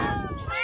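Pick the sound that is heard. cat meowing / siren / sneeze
cat meowing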